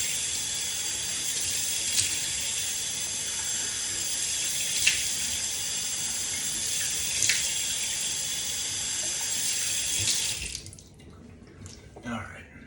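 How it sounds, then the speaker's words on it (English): Cold water runs steadily from a tap as a face is washed during a wet shave, a continuous hiss with small splashes that cuts off near the end, followed by a few faint drips and rustles. "I'm gonna get the face washed off with some cold water"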